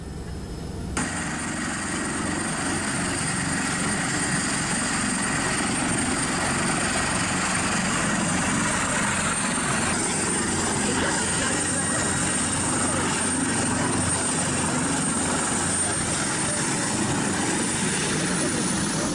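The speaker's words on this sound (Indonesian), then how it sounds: "kembali dievakuasi menggunakan 2 unit helikopter milik TNI AU serta Polda Sulsel" Two helicopters, one from the Indonesian Air Force (TNI AU) and one from the South Sulawesi police, evacuate landslide victims in Luwu, South Sulawesi. A loud, steady rotor and engine roar runs unbroken throughout, with a voice faintly beneath it.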